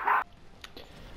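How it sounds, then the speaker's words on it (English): A single short bark from a pet dog somewhere in the room, loud and brief, followed by quiet background murmur during a Transformers: Devastation gameplay session. "Sorry about my dog in the background."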